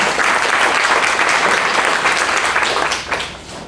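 At a campaign forum, an audience gives dense, steady, loud applause that holds for about three seconds and then tapers off quickly.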